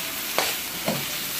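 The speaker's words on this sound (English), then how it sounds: "Because now you have put your vegetables in." Vegetables sizzle in a hot pot over a fire, a steady frying hiss with two brief bursts where the food is stirred or dropped in, heard close with no talking.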